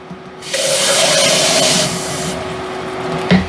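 Water poured into a pot of thick soup, a steady splashing stream for over a second that then softens into a quieter trickle, close by, ending with a small clunk.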